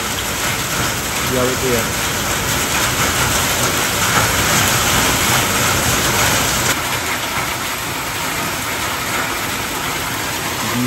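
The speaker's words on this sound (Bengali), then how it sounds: "বিভৎস জোরে শিলাবৃষ্টি হয়ে যাচ্ছে।" Heavy hail pounds a Scorpio N SUV on a mountain road, a loud, dense and unbroken drumming that fills the whole stretch while a voice speaks briefly beneath it.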